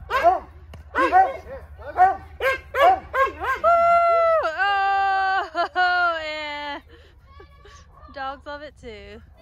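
Dogs yip and bark excitedly in quick bursts, then break into long drawn-out whining howls, close by.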